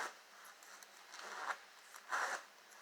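A zipper on a peacoat makes soft, brief zipping scrapes, two clearer pulls standing out from a faint rustling background.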